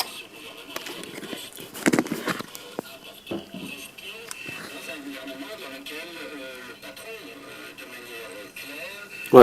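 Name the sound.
sound played through homemade plate speaker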